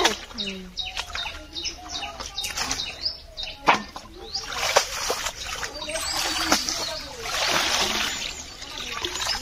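Water splashing and trickling as raw meat is rinsed outdoors at a winter picnic, with irregular wet splashes and drips that swell in the second half, birds chirping faintly nearby.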